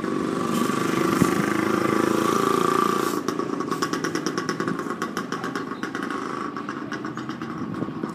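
A small motorcycle engine revs steadily up close, a dense buzzing drone that shifts into a faster pulsing pattern partway through, with no break in the noise.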